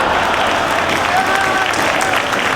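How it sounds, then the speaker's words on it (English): A professional wrestling crowd at a Ring of Honor anniversary show applauds and reacts with sustained, dense clapping and crowd noise, loud and unbroken. "listen to this crowd react"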